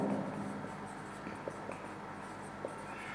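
Pen on paper while a math solution is written out: quiet, sparse scratching strokes and light taps over a faint, steady room hiss.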